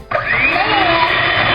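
An electric whisk whirs steadily through muffin batter studded with chopped pineapple chunks, starting abruptly and holding a bright motor whine with a shifting pitch as the beaters work, with no voices.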